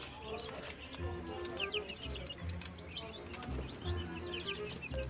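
Young quail and chicks in a coop give repeated high chirps and peeps over a low rustling background, with faint clucking and soft movement throughout.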